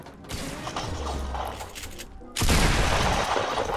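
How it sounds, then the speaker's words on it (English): Shotgun fire and gameplay action in the Fortnite Battle Royale video game, with dense bursts of blasts and mechanical clatter, growing louder and busier partway through. "my shotgun actually is dealing damage right now"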